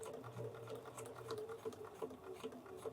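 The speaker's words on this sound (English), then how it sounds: "I'm going to stitch right over it." A sewing machine stitches over a seam in foundation paper piecing, its needle chattering in a quick, steady rhythm with a soft motor hum, heard close and fairly quiet.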